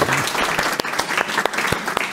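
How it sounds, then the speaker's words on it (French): An audience at a lecture about prayer applauds the speaker, steady dense clapping from a room of people with a few distinct close claps standing out. "nous pouvons applaudir hein, notre conférencier."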